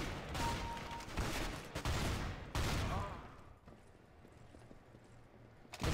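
Shotgun blasts in Counter-Strike: Global Offensive on PS3: a handful of loud, broadband bursts in quick succession, then quieter ambient game noise with a final sharp shot at the end.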